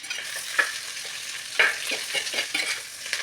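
Onions and ginger garlic paste stirred in a hot pan, a continuous close sizzle broken by scraping spatula strokes and a few sharper knocks against the metal, with no voices.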